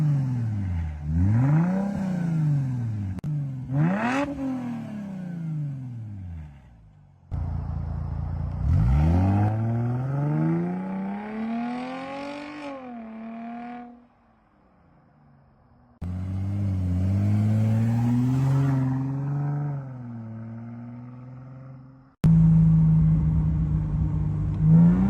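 A Mercedes C300 with the M272 V6 and a double H-pipe exhaust with no mufflers or resonators revs repeatedly, loud rising and falling engine sweeps in several separate bursts, sometimes climbing high before dropping back.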